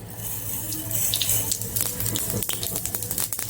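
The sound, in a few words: mustard seeds sizzling in hot oil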